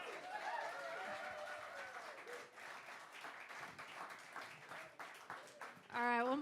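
An audience claps and cheers for a guest after his introduction, a moderate burst of applause that tapers off, with a brief voice and laughter rising at the end.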